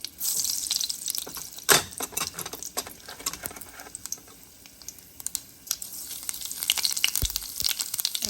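Mustard and cumin seeds crackle and sizzle in hot oil as a tempering with dried chilli, a steady faint hiss scattered with sharp pops and one louder crack.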